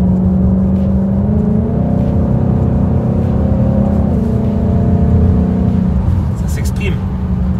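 A 2019 Ford Mustang engine with an X-pipe exhaust revs up steadily, its low droning roar rising in pitch and staying loud and close throughout, with brief clicks near the end.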